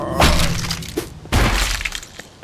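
Glass being smashed in the zombie video game Vein: two loud, close crashes of shattering glass about a second apart, each followed by tinkling debris and a softer knock between them.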